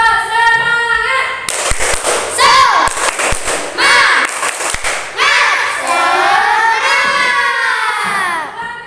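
A classroom of children does a rhythmic spirit clap, sharp claps in a patterned sequence mixed with loud shouting and chanting voices, close and energetic throughout.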